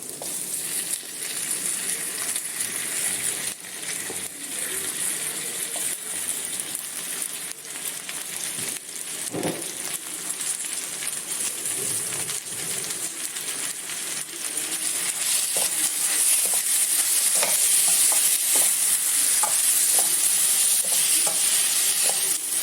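Chicken for chicken thoran hitting a hot pan and being stir-fried, with a loud, continuous sizzle and repeated metallic spatula clinks. The frying grows brighter and more intense through the second half.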